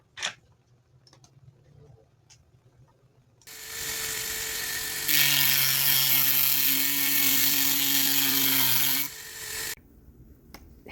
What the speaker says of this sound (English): I get to cut, carve. I love working with bones. So I am using a diamond bit slicer.